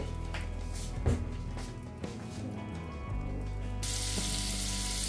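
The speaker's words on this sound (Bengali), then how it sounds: "আমি ফ্রাই প্যানের মধ্যে সব একটা একটা করে এইভাবে চিকেনগুলোকে ভেজে নেব।" Marinated chicken pieces sizzle in butter in a frying pan, a continuous close frying hiss with a few soft knocks, rising to a louder, brighter sizzle near the end.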